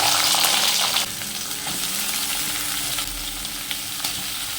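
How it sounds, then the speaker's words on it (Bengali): Teasel gourd pieces dropped into hot mustard oil, a loud dense sizzle that starts with a strong rush and settles into a steady frying hiss, no voices. "তেল গরম হয়ে গেছে, দিয়ে দেব কাঁকরোলগুলো।"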